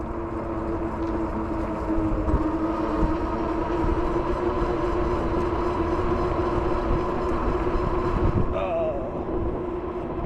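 Small zoo train passing nearby, a sustained rumbling clatter with steady mechanical drone throughout, fairly loud and close, ending with a brief squeal.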